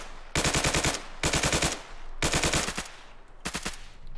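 Sustained automatic gunfire in the military shooter Arma 3, four loud, close bursts of rapid rounds laying suppressive fire on a compound, separated by brief pauses with faint distant shots between.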